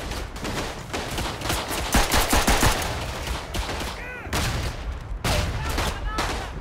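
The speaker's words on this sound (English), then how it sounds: "They are firing from the right." Dense gunfire in a close-quarters battle in the World War I shooter Verdun, with rapid rifle and machine-gun bursts crackling loudly and almost continuously, plus a whistling whine partway through.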